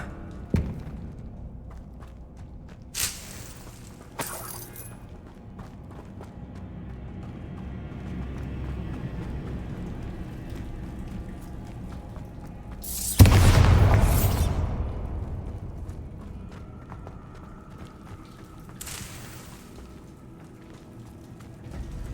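A Bombarda explosion spell bursts in Hogwarts Legacy, a sudden loud blast that then tails off into a roaring rumble, with scattered thumps and game effects before and after.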